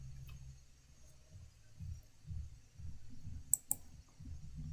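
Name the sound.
computer mouse clicking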